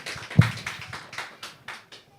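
Church congregation at a UK Sunday service giving a clap offering: a sparse, uneven run of claps, one sharp close clap followed by softer scattered ones fading out.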